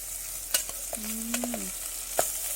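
Pork bones stir-fried in a pan in an outdoor garden kitchen give a soft, steady sizzle, broken by a few sharp scrapes and clacks of the utensil and one brief squeak.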